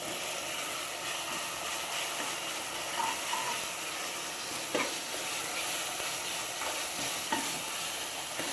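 Fresh ginger garlic paste fries in a pan for aloo kurma, a fairly quiet, even sizzle broken by a few occasional stirring clicks.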